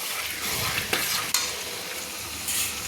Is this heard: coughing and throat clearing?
no